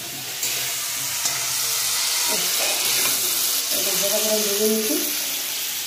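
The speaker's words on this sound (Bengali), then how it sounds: "ফুলকপি আপনারা যখনই রান্না করবেন একটু হালকা করে ভেজে নিলে সেটা কিন্তু বেশ ভালো লাগে" Cauliflower frying lightly in oil in a kadai, a continuous close sizzle with some stirring and faint background voices.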